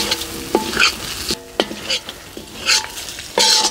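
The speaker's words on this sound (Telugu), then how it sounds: "ఇదంతా ఇప్పుడు 2-3 నిమిషాలు పెట్టి కలుపుకుంటూనే ఉండాలి." Chicken pieces frying with chilli powder, coriander powder and garam masala sizzle loudly and close, while a spoon scrapes and stirs in repeated bursts against the pan, with no voices.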